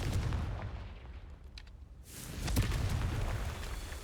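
A Confringo fire spell explodes in the Hogwarts Legacy video game: rumbling ambience fades out, then a sudden booming burst erupts at about the midpoint and rolls on as a loud, sustained roar.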